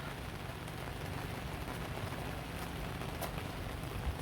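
Steady rain falls at night on a desert campsite near Quartzsite, Arizona, after a full day of rain, a dense even patter with no pauses, close around the listener and moderately quiet.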